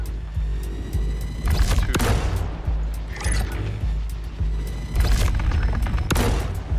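Railgun fire during a Star Citizen-style team fight against a Constellation ship on Calliope, with heavy booming blasts and rumbling bursts repeating at a steady pace over continuous low engine drone, loud and close.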